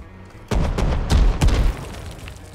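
F1 grenades exploding against a tank in the game Rust, a quiet lead-in then a sudden burst of several close, loud booms in quick succession that fade out.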